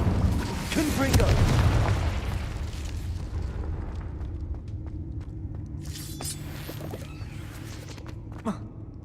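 Fiery spell blasts from the Hogwarts Legacy game on hard mode: a loud booming explosion with rumbling low-end that decays over several seconds, followed by scattered sharper pops and crackles.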